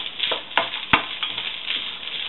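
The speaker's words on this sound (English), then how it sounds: "So just going to fry that up now so the onions are nice and crispy" Onions for a vegetarian chilli fry in a pan with a steady, moderate sizzle, broken by a few sharp scrapes or stirs.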